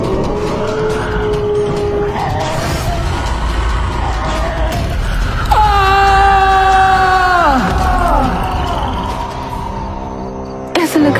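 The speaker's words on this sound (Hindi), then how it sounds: "ऐसा लग रहा है जैसे कोई चिल्लाया।" A cartoon character screams: a loud, drawn-out cry in the middle slides downward in pitch before fading, set against busy background noise and music.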